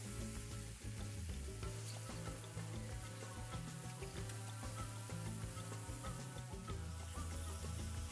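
Bell pepper fries and gets stirred into a Spanish paella, a soft but continuous sizzle with faint crackles running under a low, steady background.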